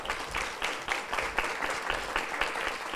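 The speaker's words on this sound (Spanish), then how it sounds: "Les damos un fuerte aplauso" An audience applauds at a mentoring seminar in Iquique, with the dense, even clapping of a crowd heard at a fair distance and fairly soft throughout.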